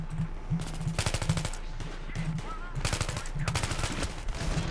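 Rapid bursts of automatic gunfire in the Battlefield 3 shooter game, loud and close, with repeated volleys separated by short pauses and faint voices in the background.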